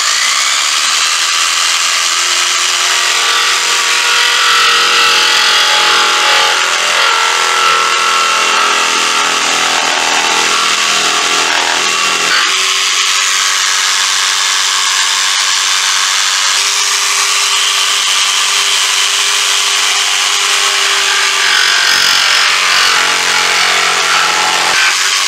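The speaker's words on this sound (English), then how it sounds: "we're going to go ahead and get the jigsaw out and get these cut out." A jigsaw buzzes continuously at close range cutting wood, its steady whine dipping briefly around the middle as it bites through.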